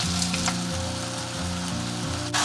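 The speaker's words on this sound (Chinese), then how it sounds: "炒这个料头的时候，火不要开得特别大，就是中小火慢慢给它炒" Aromatics fry gently over medium-low heat in lard in a wok, a steady close crackle and hiss with soft rhythmic popping, continuous and without talk, before hairtail fish is added.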